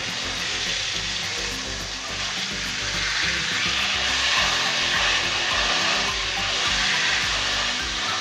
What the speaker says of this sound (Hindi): अब हम चिकन को लो फ्लेम पे पकाते हैं।